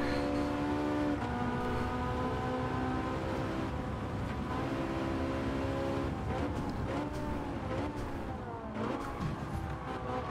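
Ferrari 458 race cars in Gran Turismo 7 drone and rev continuously, engine tones rising and falling with gear changes as the pack races close together, no talk over the constant motor noise.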